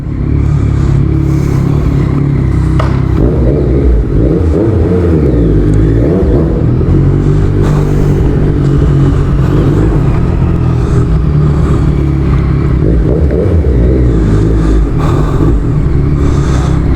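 A Yamaha MT-09 motorcycle engine runs steadily nearby, its pitch rising and falling as the rider revs and moves along, with a constant rumbling drone throughout.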